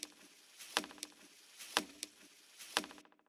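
Three sharp, textured claps built from a stomp on a branch, with the low end cut and a touch of echo, land about a second apart; a soft patter fills between them.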